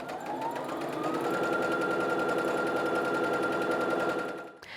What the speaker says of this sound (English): Do a little bit more sewing, secure that, and then sew to the end of the scarf.